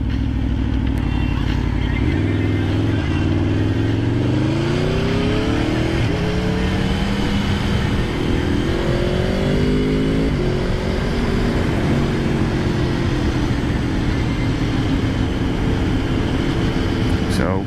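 A 2015 Aprilia Tuono V4R 1000 APRC motorcycle engine runs while riding, a loud sustained drone whose pitch climbs and shifts through gear changes over wind noise, with a voice talking over it.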